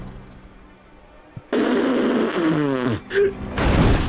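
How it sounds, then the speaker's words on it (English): A sudden loud burst of game noise from Bramble The Mountain King, with booming sonic boom blasts and a warbling, sweeping tone, continuing loud to the end. "I knew he was shooting sonic booms!"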